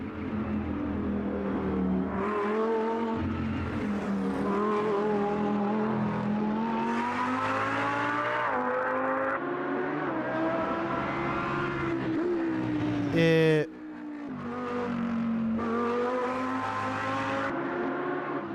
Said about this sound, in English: At the start it sounds a bit like a motorcycle engine, like a two-stroke engine.